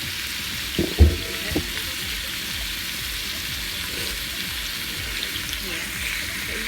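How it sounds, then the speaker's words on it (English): Pork ribs frying in olive oil, a continuous close sizzle with a couple of sharp clinks and knocks near the start, then a steady crackling hiss to the end. "I fry them on both ends inside of the olive oil"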